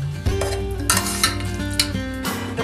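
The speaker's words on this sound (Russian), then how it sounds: "Я выкладываю все в тарелку." Metal utensils scrape and clink against a plate several times as food is served, over a low background hum, with a few sharper knocks as food is moved.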